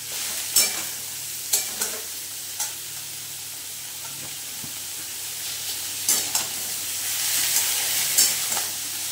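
Beetroot and carrot sautéing in a pan, with a steady background sizzle and several sharp scraping stir strokes spaced through the clip, no voices.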